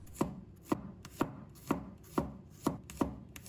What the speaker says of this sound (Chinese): 再准备1把大蒜，把它切成片